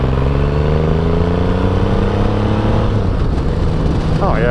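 Triumph Rocket III motorcycle engine under way, a loud, steady roar whose pitch slowly climbs through the gears against wind rush, with a brief higher whine near the end.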